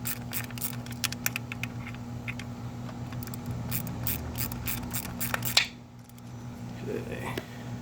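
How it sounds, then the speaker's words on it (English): Hand ratchet clicking in quick, uneven bursts while backing out the last bolt on a water pump of a 2013 Lincoln MKS 3.7L, with steady shop hum beneath and a soft metallic clank near the end. "so I'm just working this last bolt out here"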